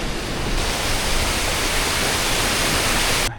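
A small waterfall spills along a mountain trail in West Virginia, a loud, continuous broadband rush of water heard up close with no other sounds.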